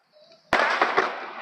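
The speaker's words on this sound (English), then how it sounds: "You're supposed to be watching fireworks, buddy." Fireworks at Savin Rock burst with a sharp crack followed by crackling and a second pop, fairly close, after a quiet moment with faint voices in the background.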